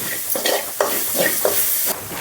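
Garlic paste and turmeric being stirred in a hot pan, a few scraping strokes over a steady frying sizzle, close and moderately loud.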